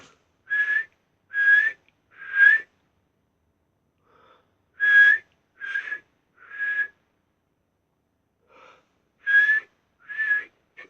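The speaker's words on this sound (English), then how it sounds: "a baby red-tailed hawk from its nest learning to count. It had started with one whistle" A fledgling red-tailed hawk in its nest gives high, thin whistles in short bursts of two or three, separated by silent gaps, clear and fairly close, with no other sound.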